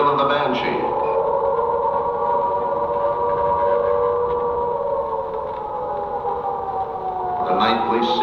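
An air raid siren wails over wartime London at night, a long sustained rising and falling tone that holds steady and fills the whole stretch, with faint background noise beneath it.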